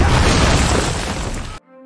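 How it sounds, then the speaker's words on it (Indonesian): A grenade thrown into a bunker by Allied soldiers explodes in a dense, loud, roaring blast lasting over a second, then cuts off sharply. "berada di dalam bunker dilempari granat oleh tentara sekutu"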